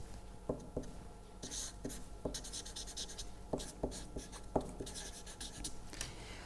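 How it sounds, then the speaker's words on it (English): Pen or chalk writing out a mathematical function of time, steady scratching strokes with periodic sharp taps, fairly quiet and close, no talking. "Let us write that down mathematically"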